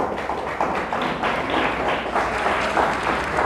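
Congregation at a church service gives God a strong round of applause, dense clapping from many people mixed with light taps and thumps, loud and steady over a low room rumble.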